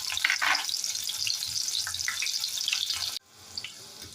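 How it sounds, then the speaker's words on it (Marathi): Green chillies fry in hot oil for thin-poha chivda with a loud, steady hiss and crackle and a few sputtering pops. The sizzle drops abruptly to a quieter simmer near the end. "तर आपण मिरची फ्राय करून घेऊया"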